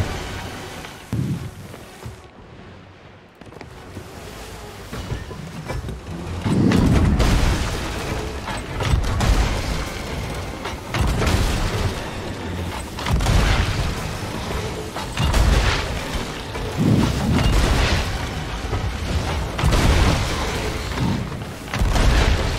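Loud pirate ship cannon fire and explosions in a video game, heavy booming blasts rolling one after another with rumbling, clattering mechanical noise and no speech.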